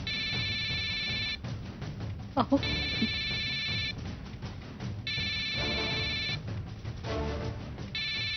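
A phone ringtone repeats in regular bursts of electronic ringing in a Marathi TV drama scene, fairly loud, with a man's brief exclamation and room noise between the rings.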